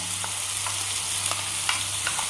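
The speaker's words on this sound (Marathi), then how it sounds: "पॅनमध्ये थोडासा तेल घालून हे जो आपण मसाला तयार करून घेतला ना चांगलं भाजून घेऊया" Masala roasting in a little oil in a pan for a Malvani bangda dish, a dense steady sizzle with soft intermittent stirring scrapes, close and uninterrupted.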